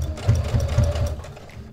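A sewing machine bastes a small fabric fin onto a shark-shaped stocking, its motor whirring in steady, close, continuous stitching bursts for under two seconds with no talk.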